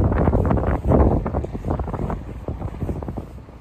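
Strong wind buffets the microphone with a steady, loud rumbling roar that surges and fades but never lets up.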